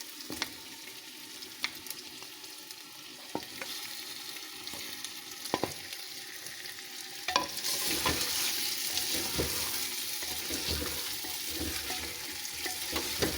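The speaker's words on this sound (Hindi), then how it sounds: "चिकन जो है थोड़ा रोस्ट होगा" Chicken cooks in a clay pot over a strong, hot flame, giving continuous sizzling with scattered scraping stirs and clicks that swells into a louder, denser hiss partway through.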